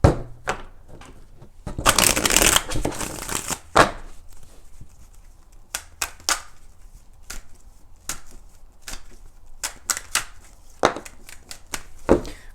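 A deck of tarot cards is shuffled in a quiet room: a dense riffling burst, then scattered sharp taps and flicks as cards are handled and laid down.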